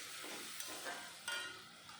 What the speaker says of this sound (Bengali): মশলাগুলো ভালো মতন কষানোর জন্য দিয়ে দিলাম একটু জল।